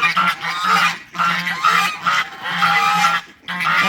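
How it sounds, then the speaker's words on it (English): Geese fighting beside a neighbor's pond, with loud, harsh, repeated honking in rapid overlapping bursts, close and continuous with only brief pauses. "That right there is a goose fight."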